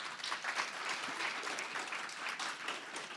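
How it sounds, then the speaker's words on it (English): A summit audience applauds for Hill Day, a steady wash of many hands clapping at moderate volume throughout, with no voices over it. "Let's give ourselves a round of applause for Hill Day."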